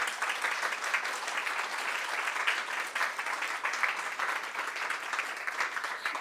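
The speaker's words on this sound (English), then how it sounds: "so we could give you a round of applause?" Steady applause from a meeting audience, many people clapping evenly at moderate volume for several seconds, with no voices over it.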